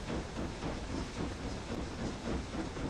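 A train in the video game Book of Travels gives off a steady rumble and hiss like steam, with faint rhythmic clatter. The sound is continuous at a moderate level and there is no talking.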